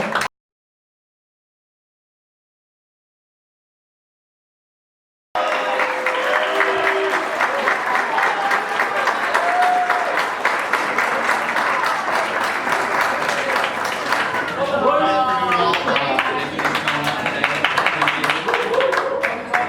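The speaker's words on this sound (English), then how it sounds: "round of applause" After about five seconds of silence, a room of guests at a hockey banquet breaks into sustained, even applause that carries on to the end, with voices talking faintly beneath it.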